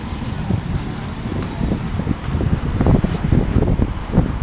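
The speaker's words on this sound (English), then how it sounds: "We'll get out the wind for a little bit." Gusty wind blows outdoors in the town of Torre La Mata, Torrevieja, Spain, buffeting the microphone with a steady low rumble and fluctuating surges throughout.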